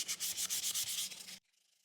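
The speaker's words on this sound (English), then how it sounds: "It's easier to sand it now because it's open through, so I can stick my hand in there and get all the corners" A wooden box is rubbed with 400 grit sandpaper in quick, rhythmic back-and-forth strokes, a close, bright scratching that stops abruptly, leaving faint light rubbing.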